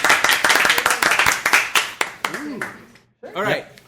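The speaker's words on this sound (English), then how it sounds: "Give her a round of applause," An audience claps for a volunteer coming on stage at a comedy event, a crisp burst of applause that fades out after about three seconds before a voice resumes speaking.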